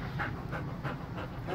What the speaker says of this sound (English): Aggressively happy dog.